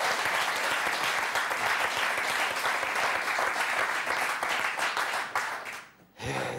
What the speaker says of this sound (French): On les applaudit, non?